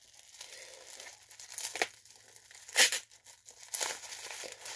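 Packing tape on a mailed package is cut and pulled away, giving crinkling and ripping bursts, one sharp tear standing out among softer rustles, close and without speech.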